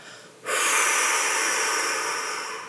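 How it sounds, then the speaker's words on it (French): A long, steady exhale during a guided relaxation exercise, a soft airy breath that begins abruptly after a quiet moment and then flows evenly, close to the microphone and without talk. "Et libère en soufflant."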